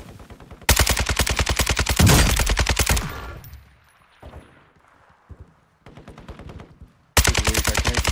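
Automatic gunfire from a bot in Warzone 2 rattles out in long, loud rapid bursts, with a pause in the middle and quieter scattered shots before a final burst.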